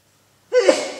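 A single sudden burst of breathy noise breaks a half-second of silence and trails off quickly, like one close, sharp human sneeze.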